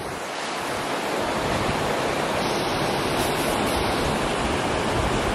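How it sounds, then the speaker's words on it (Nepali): Mohini waterfall flows as a loud, steady, close roar of falling water. The dense rushing wash continues without a break throughout. "झरना चाहिँ यस्तो छ है।"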